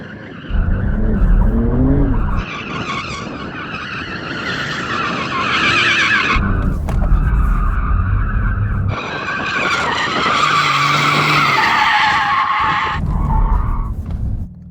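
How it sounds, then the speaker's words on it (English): Porsche tyres skidding and squealing in a loud warm-up burnout, the screech rising and falling in long sustained bursts with engine roar beneath and a brief break around the middle. "We need to warm up our tyres."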